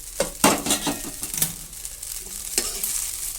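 Egg fried rice with fried egg being stirred in a hot pan over high heat, with repeated scraping and clinking utensil strokes against the pan over a soft background sizzle.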